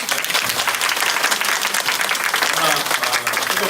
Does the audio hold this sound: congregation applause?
yes